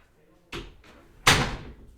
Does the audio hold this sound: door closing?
yes